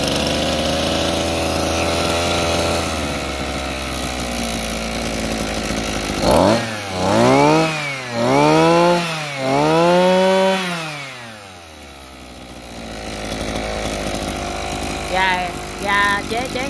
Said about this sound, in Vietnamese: Cả nhà nghe máy nổ nha.